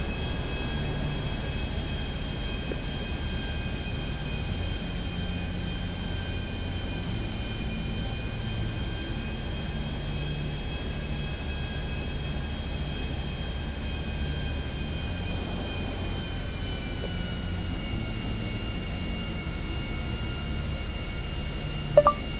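Steady droning hum of an airplane engine, a constant tonal whine over low rumble, even and unbroken for the whole stretch, with a brief sharp click near the end.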